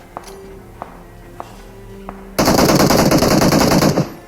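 Loud rapid automatic fire from a VSS rifle in a battle royale video game, one sustained burst lasting under two seconds after a few light taps and soft footsteps.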